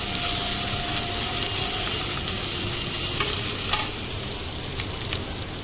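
Chili jackfruit fries in a pan while being stirred, giving a continuous close sizzle with occasional scraping clicks from the utensil and no voices.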